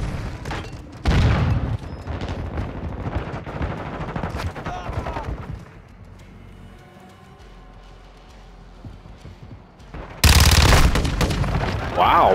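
Battle rifle fire in a Call of Duty: Modern Warfare II team deathmatch, with loud bursts of shots and impacts at the start and a heavy final volley, interrupted by a quieter stretch with some talking.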